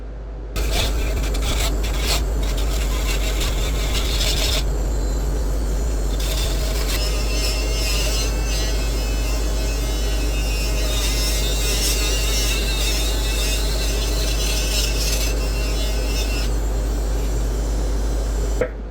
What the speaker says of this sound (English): hit this with a defuzzing tool. It's basically a little Scotch-Brite disc that'll just take off all the little furry stuff.